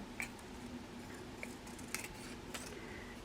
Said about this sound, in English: I'm going to cut this one down a little bit more.